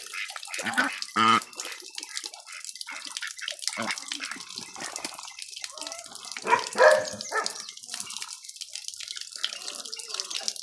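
Water runs steadily from a tap with splashing and dripping, while a dog barks briefly a couple of times nearby.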